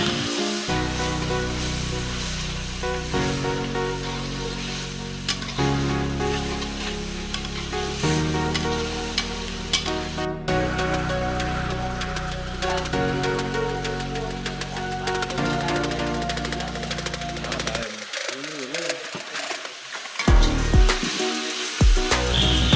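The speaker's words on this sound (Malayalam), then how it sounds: "അപ്പോൾ നമ്മൾ നേരത്തെ ഇടിച്ച് വെച്ചിരുന്ന ആയ ഇഞ്ചിയും വെളുത്തുള്ളിയും പച്ചമുളകും അതും കൂടെ ഇപ്പോഴാണ് നമ്മൾ ചേർക്കുന്ന" Ginger, garlic and green chilli frying in hot oil in a pan for an evening meal, giving a steady loud sizzle with stirring throughout, cutting out briefly near the end.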